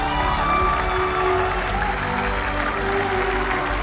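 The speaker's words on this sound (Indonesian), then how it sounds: "Kita kasih tepuk tangan lagi dong untuk Cassidy Bulan Lee." Sustained audience applause with some cheering at a televised talent-show audition, following a magician's performance on Indonesia's Got Talent, steady and loud throughout.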